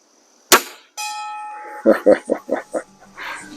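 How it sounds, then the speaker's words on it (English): A Beeman R7 (HW 30S) spring air rifle fires with a sharp crack, followed by a ringing metal bell target, then several quick knocking or clattering hits close by. "So let's ring the bell with the HW Model 30S, or in this case the Beeman R7."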